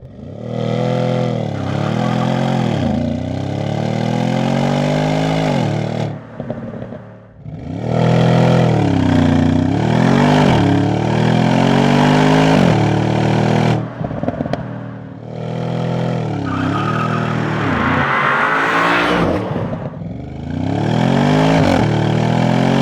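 Audi S6 C7 engine roaring loudly up close through hard acceleration, with rising revs broken by brief dips at gear changes, then pulling hard again with crackle on the overrun.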